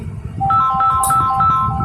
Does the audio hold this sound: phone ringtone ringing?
yes